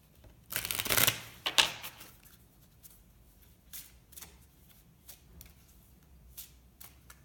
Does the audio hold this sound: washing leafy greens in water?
no